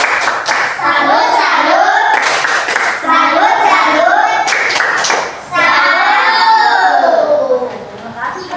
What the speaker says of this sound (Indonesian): kita tepuk salut dulu buat kelompok 2